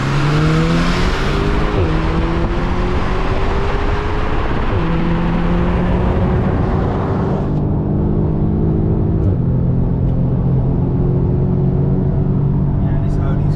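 An Audi S3 8V and a Mercedes A35 AMG launch side by side in a quarter-mile drag race. Loud engines rise steadily through several gear changes, with shifts marked by brief dips in pitch, and the roar continues strongly to the end.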